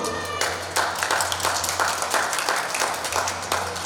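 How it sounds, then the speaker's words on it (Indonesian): Audience clapping at a Ramadan cooking demonstration of takjil dishes, a steady run of applause with rhythmic claps over music and background hum, fairly loud throughout. "Saya boleh minta tepuk tangannya dulu."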